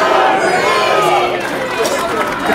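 A wrestling crowd at a live match roars and shouts in support of James Creed, a loud, continuous wash of cheering and yelling with a voice talking over it.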